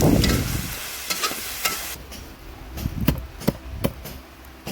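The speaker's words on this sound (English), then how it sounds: "Mixing all the masalas and meat together." Masalas and meat stirred together in a pot for a banana sprouts curry in an Indian village kitchen, with scraping and clattering strokes over a soft sizzle, a few sharp knocks standing out near the end.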